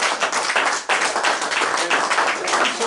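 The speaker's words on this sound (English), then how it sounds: "A good round of applause." Folk club audience applause following a live acoustic performance, a dense, steady wash of many hands clapping at close range that continues without pause.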